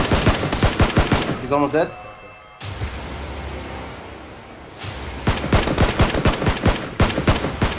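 Rapid gunfire bursts crack close and loud in PUBG, a battle royale shooter, breaking off briefly before another string of rhythmic shots; someone talks over them.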